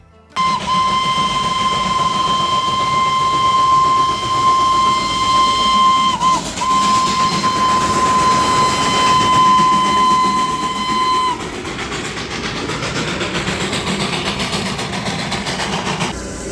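Darjeeling toy train, diesel and coal powered, at a hill loop, sounding a long loud steady whistle for about eleven seconds, then engine rumble and rolling train noise continuing alone.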